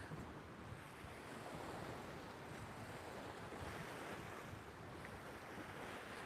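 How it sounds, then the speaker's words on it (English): Strong wind roars steadily across the bay at Puerto Pollensa, Mallorca, on a wintry day, mixed with the wash of waves and buffeting on the microphone, loud and unbroken throughout with no talk. "that wind really has come tearing up through the bay as well"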